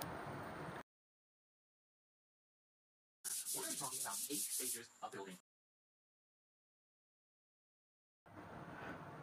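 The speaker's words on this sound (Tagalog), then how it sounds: "gamit ang liha ay tatanggalin muna natin ang mga himulmol ng plywood." Two bursts of scratchy rubbing as sandpaper is worked over plywood to remove fuzz, separated by silence, with a brief voice passage between them.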